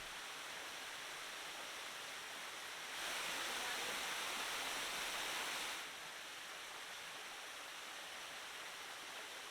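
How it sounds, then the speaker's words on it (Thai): A waterfall on Phu Kradueng in Thailand gives off a steady, soft rushing of falling water that swells louder for a few seconds midway before settling back, with no voices. "แม้ว่าเป็นเมื่อไหร่น้ำตกก็เพิ่มความสดชื่นให้เราได้เสมอ"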